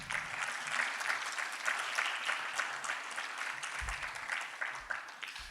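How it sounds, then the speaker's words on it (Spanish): A church congregation applauds together in a dense, continuous wash of clapping at moderate distance, holding steady for several seconds with a little crowd murmur underneath. "Dale un aplauso al Señor."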